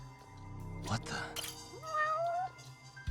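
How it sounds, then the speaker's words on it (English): A cat in the video game Judgment gives one drawn-out, rising meow over low game ambience and music, following a few brief thumps. "Oh, look, a cat."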